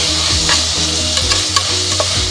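Spices are stirred into a sizzling vegetable biryani mixture in a pan, with loud continuous frying and repeated close scraping strokes of a spoon.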